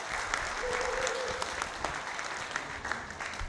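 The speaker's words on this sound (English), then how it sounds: "Please clap your hands if you agree with me." Audience applause at a tech conference talk on integrating Web Components with Angular, a steady sustained clapping that fills the room at moderate level, with no speech over it.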